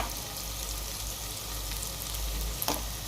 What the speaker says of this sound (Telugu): నూనెలో అల్లము వేగనివ్వాలి మంచిగా,